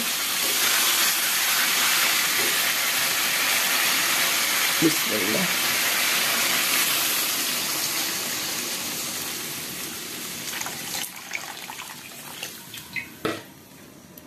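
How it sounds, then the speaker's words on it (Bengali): Water poured into a hot pan of simmering beef curry makes a loud, steady steaming hiss that fades over several seconds into softer bubbling and a few clinks, with a brief spoken word. "মাংস সিদ্ধ হওয়ার জন্য আমি এখন পানি দিয়ে দেব।"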